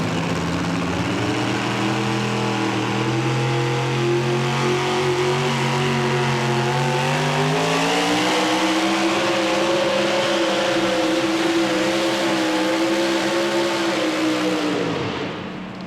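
A Ford Hemi, the so-called shotgun Hemi, powers a pulling truck at a pro truck pull, its engine roaring loud and close in a steady, sustained howl that climbs in pitch midway and holds at full power before cutting off at the end.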